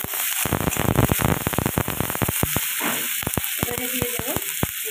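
Slit green chilies and grated ginger sizzle in hot oil in a pan, a loud, close crackle with sharp spattering pops and bursts of stirring throughout.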